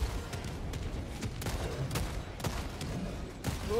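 A mortar sentry fires repeated booming shots in the game Helldivers. The dull thuds come at a steady, uneven pace over a muffled, busy battle background.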